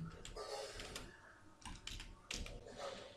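Keys clacking on a computer keyboard at close range, a quick irregular run of taps with brief pauses, fairly quiet.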